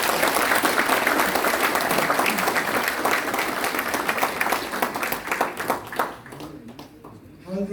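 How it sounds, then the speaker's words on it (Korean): Loud, sustained audience applause at the inauguration ceremony of a regional chapter president of a Korea–US alliance council, continuous dense clapping that thins and fades near the end as a voice returns. "박수 한번 쳐주세요."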